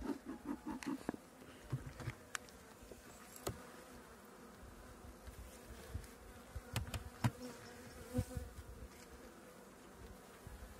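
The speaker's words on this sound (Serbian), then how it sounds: "Dobro, ima dosta pčela." Honeybees buzzing during a spring beehive inspection, a soft continuous hum with scattered louder passes of individual bees close by, alongside faint handling clicks.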